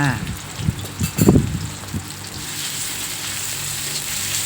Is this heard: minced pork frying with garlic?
yes